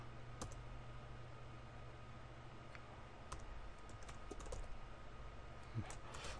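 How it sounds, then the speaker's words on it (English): Typing code into Adobe Edge Animate on a computer keyboard, with soft, irregular key clicks tapping steadily over a low background hum and no talk. "we're going to type in the following"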